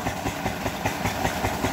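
An engine runs steadily to pump irrigation water onto a wheat field, a continuous chugging drone with a faint regular pulse and a hissy wash over it, heard on its own.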